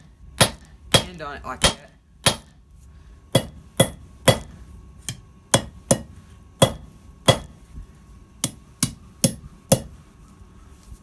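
A hammer strikes hot steel on an anvil while a coat hook is forged, a steady run of sharp ringing blows at an irregular pace, close and loud, with someone briefly speaking between strikes.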